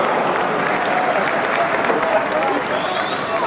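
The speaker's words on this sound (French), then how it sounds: "Et le public anglais qui applaudit" An English football crowd at an Arsenal FC versus France match in 1989 applauds, a loud, unbroken roar of clapping from a large stadium, with commentary running over it.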